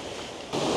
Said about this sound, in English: There's the falls,